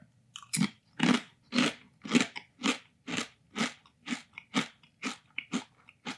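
Thick-cut smoked gouda wine chips are chewed close up, about a dozen loud, evenly spaced crunches in a steady rhythm, with no talking.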